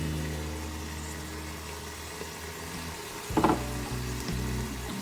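Grated tomato and onion sizzle steadily in a pan with mixed spices while being stirred for a Saudi lamb kabsa, with a brief louder burst of crackling midway over a low constant hum.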